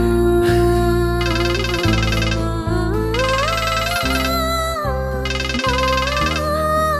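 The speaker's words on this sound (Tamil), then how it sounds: "ரிங் போகுது" A phone ringtone playing loud and continuous, a synthesized melodic tune over a repeating pulsing bass pattern.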